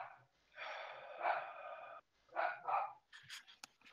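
A dog gives a few sharp barks and breathy, snorting yelps in short bursts with gaps between, fairly faint and close, no talking over it.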